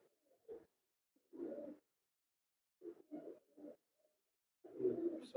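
Pigeons kept as a pair of older birds from Dubai give several soft, low coos in separate bursts, with quiet pauses between them and a fuller run of cooing near the end.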